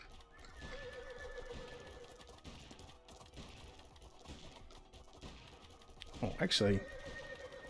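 Horses neigh and hooves clip-clop in the action game Bounty of One, a whinny rising loudly near the end over a busy game background while someone talks.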